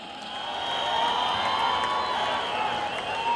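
A pageant audience at a Miss PTC Punjabi grand finale applauds and cheers loudly for the judges: dense crowd clapping with whoops and shouts, swelling quickly and holding steady throughout.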